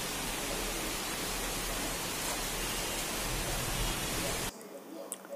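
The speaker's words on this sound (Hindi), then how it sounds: "कितनी मतलब ज़ोरों से बारिश हो रही थी" Heavy monsoon rain pours steadily near a kitchen balcony in an Indian home, a dense, loud, unbroken hiss that cuts off abruptly near the end, leaving quieter ambience.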